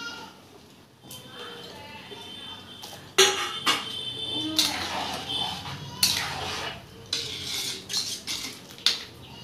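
Drumsticks added to a pot of simmering tamarind dried-fish curry, with clinks and clatters of a metal spoon against the pot and bursts of bubbling and stirring, some knocks loud and close.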